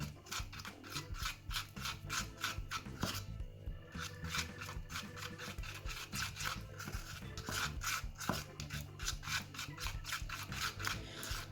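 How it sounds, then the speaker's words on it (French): Slime paste is stirred with cornstarch in a bowl, producing a soft, repetitive scraping and rubbing rhythm, close and quiet, continuing steadily without speech. "Et ensuite, je dois mélanger pour obtenir une pâte."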